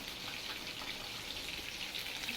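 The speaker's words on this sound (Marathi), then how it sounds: "बघ इकडे सुद्धा फ्राय व्हायला लागली" Fish frying in a pan until crisp: a steady, close sizzling hiss that holds evenly throughout, with no voices.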